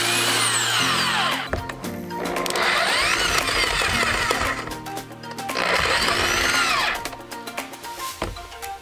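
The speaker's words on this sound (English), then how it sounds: "take the grinder and grind off a little edge onto the drum key." An angle grinder grinds a small edge onto a metal drum key so it can grip in a drill chuck; two long loud bursts of high whining grinding with a brief pause between, close and alone.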